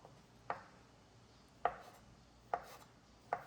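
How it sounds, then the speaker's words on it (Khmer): A knife cuts pork pâté into thin, short strips on a board, four distinct chops at uneven intervals, close and crisp against a quiet kitchen background. "សាច់ប៉ាតេនេះយើងនឹងយកវាមកហាន់ជាចំណិតស្ដើងនិងខ្លីៗ"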